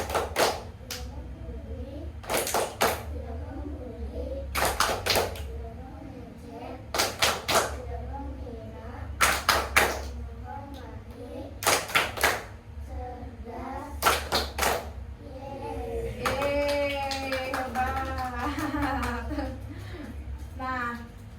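Children in a classroom counselling session on bullying chant in rhythm and clap in short bursts of claps between the chanted phrases. A voice sings briefly near the end.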